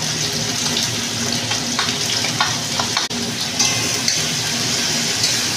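Garlic paste and chopped tomatoes frying in a pan for biryani, stirred steadily: a continuous close sizzle with scraping strokes and a brief break partway through, no talking.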